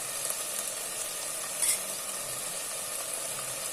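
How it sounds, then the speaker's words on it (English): Chicken biryani masala with curd being stirred in a pot, a soft continuous sizzle under a faint scraping, with one brief louder clink of the ladle midway; steady and close, no voices. "Give it a stir."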